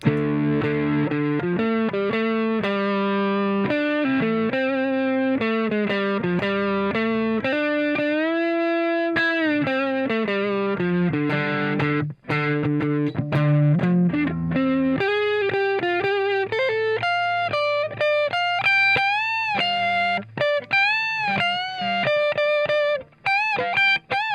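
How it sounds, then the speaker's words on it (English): Overdriven electric guitar through a Tube Screamer Mini overdrive pedal, playing a sustained melodic solo line with bends and held notes, moderately loud and alone. "we go into our first overdrive pedal, which is a Tube Screamer Mini."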